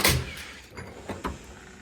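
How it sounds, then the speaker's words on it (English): A Snap-on toolbox drawer opens with a loud initial rattle, then a few short metallic clunks and slides as it moves along its runners, close up and with no voices. "Next drawer, I gotta get this to fit again."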